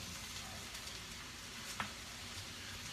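Cauliflower frying in a pan over medium heat gives a steady close sizzle, with a brief scrape of stirring partway through.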